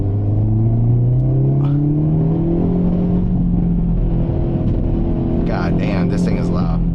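A Hyundai Elantra N engine drones loudly up close, its pitch climbing steadily as it revs, with a deep rumble underneath and a voice briefly audible near the end.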